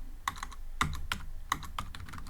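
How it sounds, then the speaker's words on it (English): Computer keyboard keys clacking while Python code is typed, a burst of irregular close keystrokes with a few louder strikes standing out. "we're going to type here name equals"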